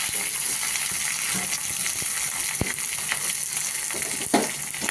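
Shallots sizzling in hot coconut oil in a pan, a steady close frying crackle with occasional sharper pops, heard alone without talk.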